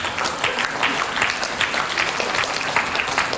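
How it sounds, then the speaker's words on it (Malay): Audience applause for the owner of a honey business at a marketing seminar: dense, steady clapping from many people that fills the room without a break. "Satu tepukan burung untuk beliau."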